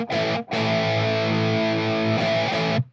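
Sustained, heavily distorted electric guitar chord rings out loud through stereo speaker cabinets, one on each side, briefly cut after the first half second, then held steady with a full, saturated amp tone.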